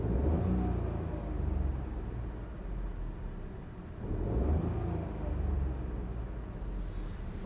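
Inside a Ford Fiesta Zetec S Black Edition fitted with a Cobra exhaust, the engine idles as a steady low rumble with broad cabin noise and gentle swells in level, close and continuous, with a voice faintly present.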